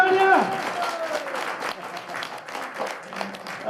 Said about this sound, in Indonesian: Tepuk tangannya mana? Tepuk tangannya.